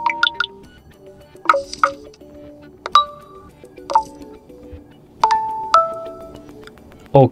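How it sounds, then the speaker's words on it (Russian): Several short Nokia 1.4 notification tones preview one after another through the phone speaker, each a brief chime, ding or droplet-like blip separated by pauses, fairly loud and with no talk. "И также можем изменить звук уведомления."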